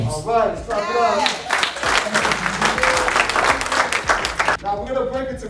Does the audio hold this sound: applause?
yes